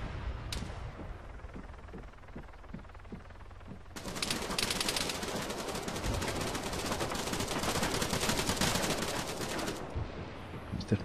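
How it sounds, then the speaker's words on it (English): Rapid bursts of gunfire in Arma 3 crackle continuously, intensifying into a sustained barrage midway through, loud and close, with scattered single shots beforehand. "There's definitely a lot of gunfire going on."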